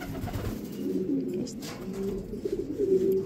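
Racing pigeons flown in 200 to 1000 km long-distance races coo in a loft, a dense low warbling drone of overlapping birds that continues without pause, near and fairly loud.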